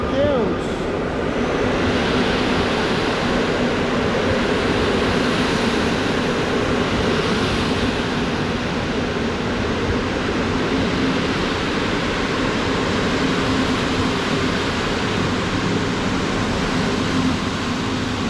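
A Pesa Gama Griffin EU160 locomotive hauls a passenger train past with a continuous broad rumble and roar that holds steady and close throughout.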